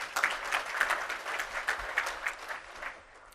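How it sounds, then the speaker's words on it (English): Steady audience applause, many hands clapping together in a dense, even patter that holds throughout without talk. "Yes, he deserves a round of applause."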